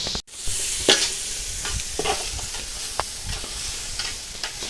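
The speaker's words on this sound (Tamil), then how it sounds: "அப்படியே கொஞ்சம் நேரம் கிடந்து பொரிக்கட்டுமா." Chicken noodles sizzle steadily as they fry in a pan in a village kitchen, with scattered scraping and clattering stirs standing out over the constant hiss, close and fairly loud.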